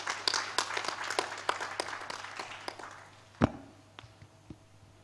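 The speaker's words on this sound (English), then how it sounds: "Can we give him a round of applause?" Scattered audience clapping at an Abuja housing show for an architect, sparse individual claps that trail off, with a sharp knock partway through and a quieter room afterward.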